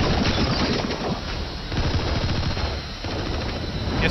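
Rapid, continuous gunfire from Metal Gear Solid V: The Phantom Pain, as bullets strike an enemy, loud and sustained for about four seconds with a brief dip partway through.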